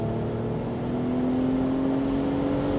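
A 2025 BMW Z4 M40i with a manual gearbox pulls hard in third gear, its engine note climbing steadily as it accelerates, heard from inside the car, loud and continuous with no talking.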